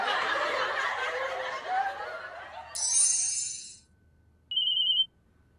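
A phone rings for an incoming call with two short, bright electronic bursts, the second a thin sustained beep. Both come after a stretch of laughter and crowd-like noise that fades just before the ringing.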